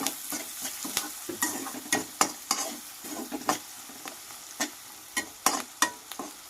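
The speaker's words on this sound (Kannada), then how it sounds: "ಉಪ್ಪು ಹಾಕಿನೂ ಕೂಡ ಚೆನ್ನಾಗಿ ಮಿಕ್ಸ್ ಮಾಡೋಣ" Onions frying with salt in a kadai are stirred briskly, a spoon scraping and knocking in irregular bursts over a steady low sizzle, close and fairly loud, with no talking.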